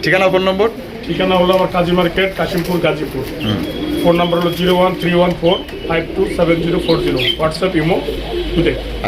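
Pigeons at a shop selling local, racing and fancy breeds coo softly and repeatedly in the background, while someone talks loudly and continuously over them throughout.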